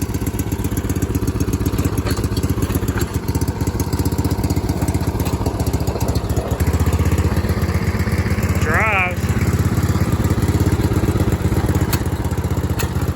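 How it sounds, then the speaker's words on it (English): A Scag lawn mower's engine runs steadily and close while mowing, a loud, even mid-pitched drone with rattling clatter; someone speaks briefly over it. "we'll mow with it and see how it does."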